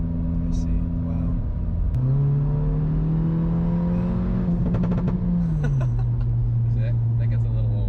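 A tuned Audi A3 with a Stage 1 tune and Borla exhaust pulls hard from inside the cabin, its engine note climbing steadily through a long rev, dropping at a shift and rising again, loud and continuous.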